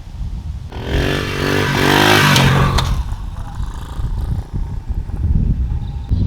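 Pit bike engine running outdoors, loud and close, with a steady rasping drone that climbs in pitch early on, then settles into a rougher, uneven running sound.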